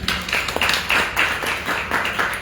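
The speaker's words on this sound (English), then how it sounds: "Let's give Daraji a round of applause." Audience clapping in a round of applause for Daraji, a devotee honored at a Sunday morning Shri Ram gathering, with steady dense hand claps and rhythmic swells over about two seconds.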